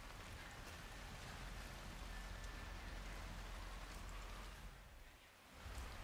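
Steady rain in the video game Hitman 3 hisses evenly throughout, a dense broadband patter with a brief dip near the end before resuming.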